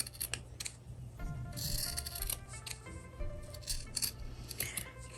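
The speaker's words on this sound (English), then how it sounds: "Just feel free to trim it like this." Scissors trimming a small scrap of fabric for a no-sew Christmas ornament, a series of close, crisp snips and blade clicks in an irregular rhythm over a quiet room.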